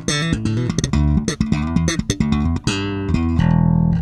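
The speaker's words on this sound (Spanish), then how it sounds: "Mi slap suena así" Slap bass played with a funk EQ setting, punchy popped and thumbed notes in a tight syncopated pattern, loud and close with no talking over it.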